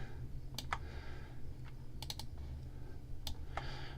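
Sharp, isolated computer mouse clicks during play of a Borodino strategy game, several scattered single and double clicks over a low steady hum, close and fairly quiet.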